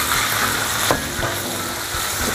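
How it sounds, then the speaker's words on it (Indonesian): Chicken and carrots stir-frying in a pan for Hong Kong-style fried rice, a steady close oil sizzle with light scraping of the spatula, no voices. "Ditumis-tumis lagi sampai berubah warna ya ayamnya ini."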